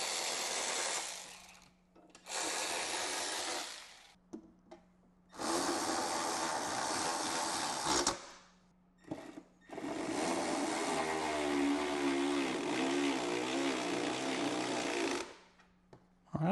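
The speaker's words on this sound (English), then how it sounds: "Let's put the bolts back in it now." Ratchet wrench driving bolts back into a 2014-2023 motorcycle during saddlebag subwoofer kit installation, heard as several separate bursts of rapid clicking with short pauses between them, close and fairly loud.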